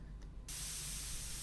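A steady, loud broadband hiss of spray in the video game Into the Radius 2 starts abruptly about a third of the way in and continues unbroken to the end, with no talking.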